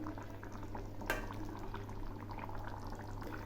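Aar fish curry with mustard simmering in a pan, a steady soft bubbling and sizzling with one brief louder clink partway through, no voices.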